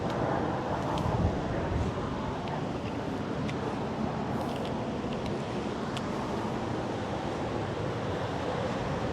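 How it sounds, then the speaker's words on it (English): Surf churning on the Gulf at Topsail Hill Preserve beach in Florida on a windy day, a steady, loud wash of breaking waves and wind rushing continuously with no talk. "The Gulf's churning today."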